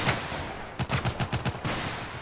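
Rapid bursts of gunfire in the video game Total Conflict: Resistance, a quick string of about ten evenly spaced shots after a brief pause, loud and close with a steady background hum.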